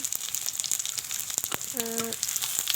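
Panch phoron seeds with crushed garlic hit hot oil in a pan, a crackling sizzle broken by several sharp utensil clicks and a brief ringing metallic tap.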